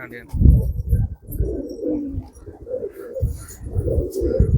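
Racing pigeons coo in a loft, a steady run of low, throaty murmurs spread across the clip, with a few faint chirps above and people talking nearby.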